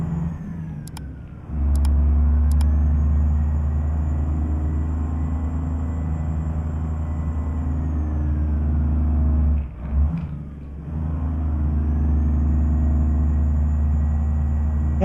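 A Ford WT 9000 truck engine in American Truck Simulator drones steadily at cruising speed, a loud, low, continuous rumble with a brief dip in the middle and faint clicks near the start.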